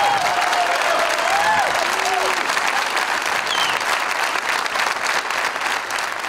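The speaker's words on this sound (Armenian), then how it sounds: "եկեք ծափարություններով դիմավորենք" Steady audience applause rings out through a live Arena Live concert hall as a singer is welcomed onto the stage, dense clapping with a few tonal whistles or cheers sliding above it, sustained for several seconds.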